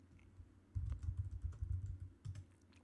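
A run of rapid keystrokes on a computer keyboard as a Linux terminal command is typed, close and fairly even in rhythm for about two seconds after a brief quiet start, with no talking.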